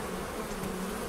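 Honey bees hum steadily and closely throughout during a spring hive inspection, a dense continuous buzz with no voices.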